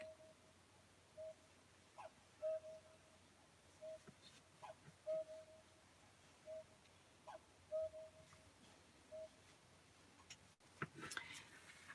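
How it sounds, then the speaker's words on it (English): Cuckoo clock at home striking one o'clock gives a faint repeating two-note call again and again in a quiet room, with soft background noise and a brief thump near the end. "I don't know if y'all can hear my cuckoo clock."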